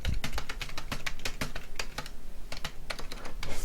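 Rapid typing of code on a computer keyboard, close and crisp, with irregular bursts of key clicks and brief pauses, no talk.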